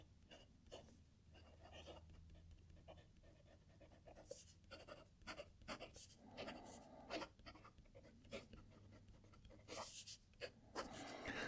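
A fountain pen with a medium 14 karat gold nib scratches and glides across paper in soft, irregular strokes and ticks, close and quiet, with no talking.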